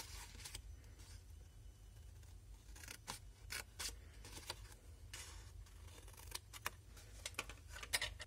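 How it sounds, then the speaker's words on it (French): Scissors snip through paper while cutting pieces for a scrapbook explosion box, a series of crisp close cuts in irregular rhythm over a quiet low hum, with quicker snips toward the end. "je vais venir couper ici jusqu'à l'angle et retirer cette partie-là"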